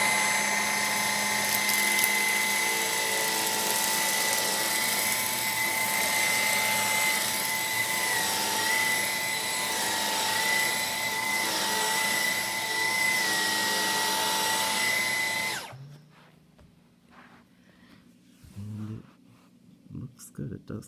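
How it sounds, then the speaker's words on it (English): A Dyson Cyclone V10 Absolute cordless vacuum runs steadily with a loud, high whine while cleaning a dog bed on carpet, then cuts off about fifteen seconds in, leaving quiet handling noises. "So I guess I'll vacuum up this little pile of stuff here."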